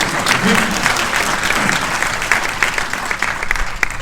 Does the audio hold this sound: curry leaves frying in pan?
no